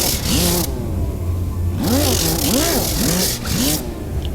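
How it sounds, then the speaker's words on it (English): Power sander working bondo filler on the quarter panel of a 1968 Camaro, rolled over the panel's crown in repeated short strokes, its whirring motor rising and falling in pitch between loud bursts of abrasive scraping. "you have to roll your sander up and over that crown to keep from flattening it out."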